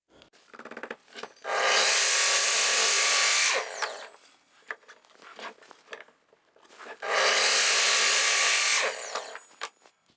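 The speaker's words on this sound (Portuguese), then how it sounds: "Agora vamos até a serra de meia esquadria, cortar os ombros e colocar os trilhos" Two long, loud bursts of a miter saw slicing through oak shoulder pieces for a barn door, each cut lasting about two seconds with a whining spin-up and wind-down, separated by quieter handling knocks.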